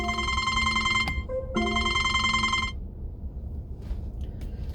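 A telephone bell rings in two long bursts with a short gap between them, loud and close, then stops, leaving low background noise.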